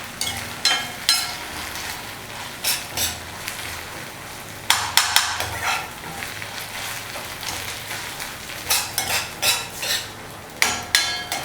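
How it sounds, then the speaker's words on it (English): Onions sautéing over medium heat in a pan for mutton liver green masala fry: steady soft sizzle under repeated sharp spatula knocks and scrapes against the pan, fairly close and loud. "So just saute these onions"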